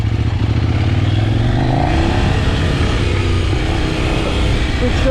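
Kove 800X Pro motorcycle under way, a loud, steady engine drone with wind rush and a shift in pitch as it accelerates, heard close from the rider's position.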